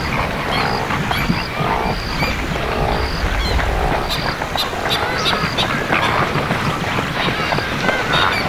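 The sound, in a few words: pelican flock on lake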